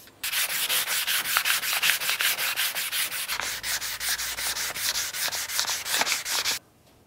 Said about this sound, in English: We are completely sanded in 320 now, and I ditched the soft block to get into some of the tight corners.